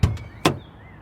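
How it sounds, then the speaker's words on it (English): A car door being handled, heard as two close, sharp thuds or clunks about half a second apart, then a quiet hum. "Miyako opened the car door and stepped into the heat."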